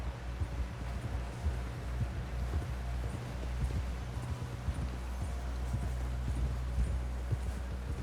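Horse hooves clip-clop steadily in Red Dead Redemption 2 as a rider pushes toward a camp, rhythmic beats running the whole stretch over a low droning background.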